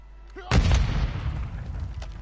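A single heavy shotgun blast in the online battle royale game Plunder, sharp and loud with a booming low tail that fades over a couple of seconds, faint background game noise before it.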